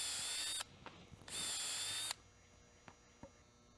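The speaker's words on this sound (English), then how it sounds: "The frames are assembled by pre-drilling the corners and putting them together with 3-inch screws." Two loud bursts from a power drill pre-drilling the corners of a wooden cornhole board frame in a production shop, followed by quieter clicks and handling knocks.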